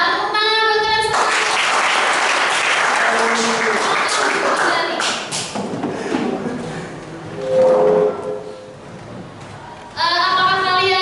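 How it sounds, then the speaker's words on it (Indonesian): Students in a classroom clap together in a sustained round of applause lasting several seconds, with voices heard at the start, in the middle and at the end. "tepuk tangan buat kalian semua"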